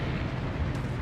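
Naval gun salvo in a video game, a steady heavy low rumble of booming fire sustained through the whole moment, loud and dense without distinct separate shots.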